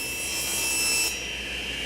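A handsaw cutting through a thin wood panel with a crosscut stroke, a steady close rasping scrape that cuts off abruptly midway, leaving a quiet room.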